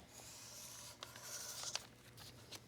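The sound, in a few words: pen drawing lines along the edges of a paper pocket pattern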